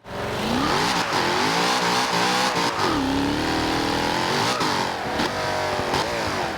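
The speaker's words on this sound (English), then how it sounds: "this thing sounds insane. I'm gonna give it a little rip right now." In the racing game Forza Horizon 2, a Jaguar F-Type's engine revs hard and climbs through gears with rising and falling pitch, loud and continuous, with faint tire squeal.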